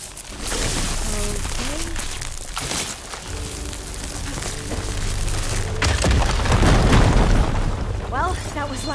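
Fire gleam deposits detonating in Horizon Forbidden West: loud booms and crackling bursts with rumbling debris, growing heavier toward the end, while a voice speaks briefly over the blasts.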